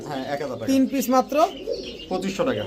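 Gola pigeons coo in low, rolling calls at a pigeon sale, the cooing tangled up with people talking close by.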